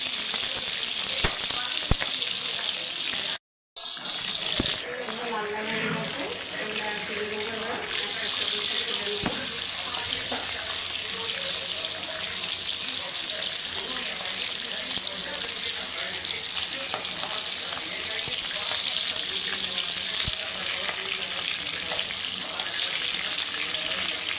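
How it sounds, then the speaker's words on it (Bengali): Chilli chicken ingredients frying in a pan at home, a steady loud sizzle running continuously with occasional stirring knocks, briefly cut off early before resuming. "একটু ভেজে নেবো সব"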